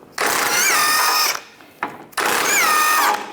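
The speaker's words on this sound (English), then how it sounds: "So we'll just use a 22mm socket. Take these nuts off." A power tool with a 22mm socket spins nuts off a 2007-2013 Mini Cooper's steering knuckle during a CV axle job, in two loud, close whirring bursts separated by a brief pause.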